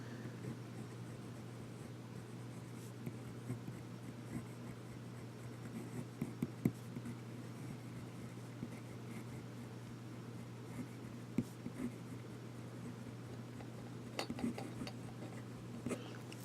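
A Retro 51 Lincoln pen is dragged across paper while writing in reverse, making a faint, soft scratching under a low steady hum, with occasional small clicks and taps.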